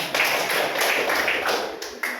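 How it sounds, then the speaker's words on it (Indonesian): A group of people in a physical education class claps hands together in quick, even rhythmic bursts, close and moderately loud, over about two seconds. "gue tepuk tangan untuk kita"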